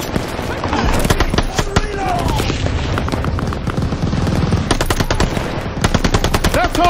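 Machine gun fire in a Call of Duty Vanguard battle: rapid, loud bursts of automatic shots crackle through the scene alongside other gunfire, with a voice speaking amid the combat.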